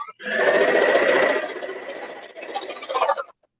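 A sewing machine runs steadily with a whirring buzz, slowing and stuttering toward the end, fairly close and loud.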